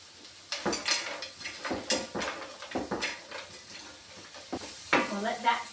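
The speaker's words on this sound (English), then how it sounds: "We'll let that sizzle for a little while." Vegetables and beans sizzle in a pan during vegan meal prep, with a steady frying hiss and repeated scraping stir strokes against the pan, loud and close.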